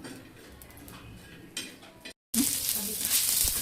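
Cleaned dried bombil fish pieces roast in a pan with a quiet crackle and occasional scraping stirs; after a brief dropout the sizzle returns much louder and denser.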